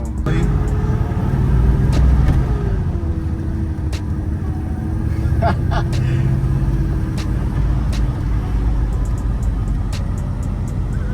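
V8 station wagon engine running after a first start on fresh gas, a steady deep rumble with occasional revs throughout while people talk over it.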